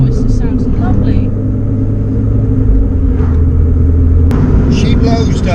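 A modified Renault Clio 182 being driven on country roads gives a loud, steady low engine rumble and drone heard from inside the cabin, with some faint higher noises over it.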